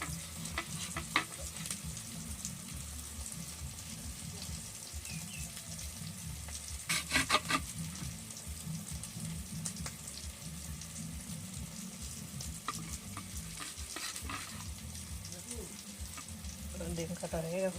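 Spice masala is stirred in a frying pan for egg paturi, sizzling steadily at close range with soft scraping strokes and a few sharper clatters of the spoon against the pan.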